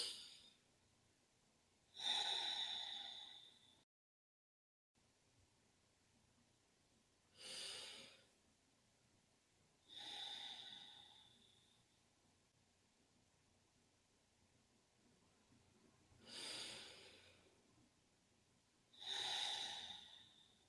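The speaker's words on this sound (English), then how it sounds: "let's just take 3 deep breaths" Five slow, deep breaths in and out, each a soft airy swell a few seconds long separated by quiet pauses, close and gentle with no talking.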